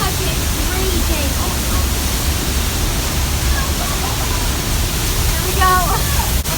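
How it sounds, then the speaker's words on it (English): A massive waterfall close enough to touch, its steady broadband roar filling the whole stretch at high level, with voices talking over the rushing water. "The waterfall is right there."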